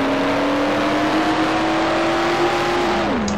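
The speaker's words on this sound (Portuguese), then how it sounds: "Bem barulhento esse carro aqui" A loud, droning car engine in the video game Mafia, holding a steady buzzing pitch, rising slightly before dropping off near the end, with a harsh synthetic quality.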